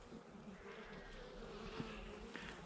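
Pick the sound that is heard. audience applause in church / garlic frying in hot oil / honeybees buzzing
honeybees buzzing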